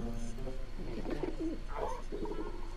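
A raptor-like bird creature in Monster Hunter World gives cooing, warbling calls, a few short tonal phrases close up over a steady game background.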